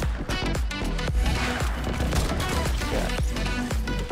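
Loud, sharp gunshots from a heavy sniper in Fortnite, a rapid string of hard cracks with crashing impacts packed into a few seconds of dense in-game combat.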